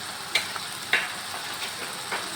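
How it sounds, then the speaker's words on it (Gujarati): Turmeric and chili powder being stirred into a pan for sambar: a steady, moderately loud frying sizzle with a few soft scraping clicks from the spoon, and no voices. "હવે આપણે હલાવી લઈશું."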